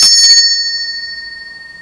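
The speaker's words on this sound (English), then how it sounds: "And I also have this bell." A small rusty altar bell struck once with a bright ping, its clear high tone ringing on and slowly fading for nearly two seconds, close and alone.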